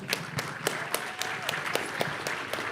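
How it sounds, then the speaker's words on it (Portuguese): Audience applause at a lecture on large language models, scattered claps with distinct individual hits over a soft background murmur, moderately faint. "Peço uma salva de palmas aqui para o Marcelo Finger"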